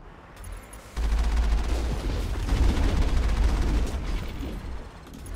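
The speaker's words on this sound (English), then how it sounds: "Who's shooting me?" Sustained gunfire from the Mass Effect video game, a dense loud burst of shots running steadily for several seconds after a brief quieter opening.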